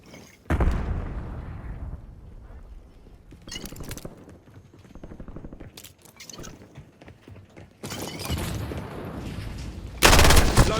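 Bursts of gunfire in the Call of Duty Warzone video game, loud clusters of shots around the start, middle and end, with rapid crackling volleys over steady background game noise.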